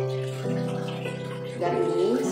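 Hot water pours and splashes steadily as freshly boiled cilok, tapioca dough balls cooked ten minutes, are drained in a home kitchen. The rush is continuous and close, with a tonal hum underneath, and grows a little louder and busier toward the end.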